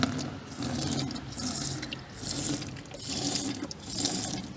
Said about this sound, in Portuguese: pego o meu prata, o meu líquido, um balde limpo e vou colocar produto no balde